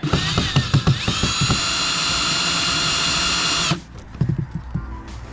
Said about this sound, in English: then I'll use my power screwdriver